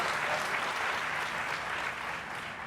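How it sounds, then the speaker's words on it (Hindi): Steady, dense applause fills a hall welcoming the governor at a book launch ceremony, continuous and loud for the whole span with a slight fade near the end. "जोरदार तालियों के साथ स्वागत हो।"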